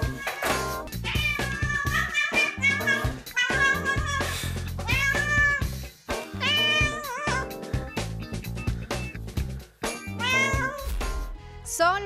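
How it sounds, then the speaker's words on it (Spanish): A cat meowing insistently as it greets its owner arriving home, a long string of loud, close, pitched meows with brief pauses between calls. "un felino saluda efusivamente a su dueño cuando llega a la casa."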